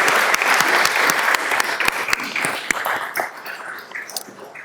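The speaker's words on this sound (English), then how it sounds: "Please join me in a round of applause for our 20-year service award recipients" Audience applause at a city council meeting for 20-year service award recipients, brisk close handclaps from a modest room that thin out and fade over a few seconds.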